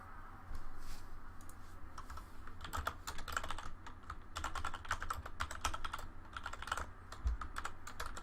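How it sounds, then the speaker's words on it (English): Fingers tap rapidly on a computer keyboard in a quiet room, irregular bursts of clicky keystrokes with brief pauses, close and fairly soft, with no talking. "Sorry, guys. I'm typing."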